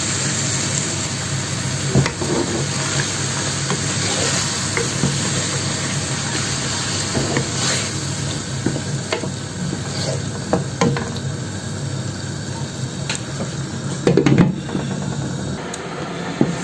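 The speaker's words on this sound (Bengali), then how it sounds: "মাংসটাকে কষিয়ে নেব।" Boneless meat is sautéed with spices and a splash of water in a pan, producing a steady moderate sizzle broken by scraping stirs and small clatters, without talk.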